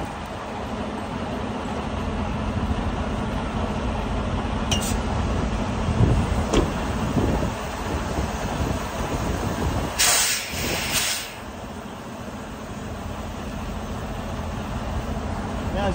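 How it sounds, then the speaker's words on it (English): Air suspension airbags on a semi truck inflate to raise the fifth wheel under an empty flatbed trailer, a continuous loud hiss of rushing air over a rumbling idling diesel engine, with brief sharper air bursts partway through. "So at this point I'm going to inflate the airbags, and that will lift the trailer with my fifth wheel up"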